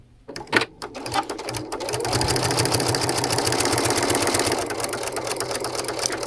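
A Brother sewing machine stitches channel quilting lines, starting after a few handling clicks and settling into a fast, steady mechanical whirr with rapid needle ticks, close and continuous for several seconds, with no speech.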